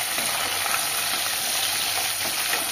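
Onion, dried red chillies and curry leaves fry in oil for oil eggplant kuzhambu, a dense, steady sizzle with a close crackle that holds even throughout.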